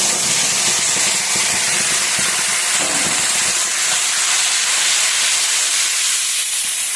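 Spice paste of cumin, coriander, turmeric and a little sugar sizzles in a pan, a loud, steady frying hiss filling the clip without pause and with no talking.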